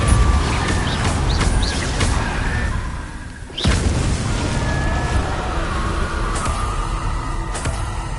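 A muffled magical blast booms from the Confringo spell in a Harry Potter video game, a single explosion rising over a dense, steady bed of game ambience and background effects.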